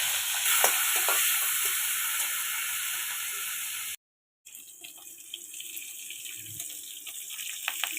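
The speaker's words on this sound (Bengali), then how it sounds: "চিংড়ি মাছ ভাজা হয়ে গেছে, এবার তুলে নেব।" Shrimp fry in hot oil in a kadai for a Bengali home-style dish, producing a loud, continuous crackling sizzle with scattered pops and stirring scrapes, briefly cut off near the middle before resuming slightly softer.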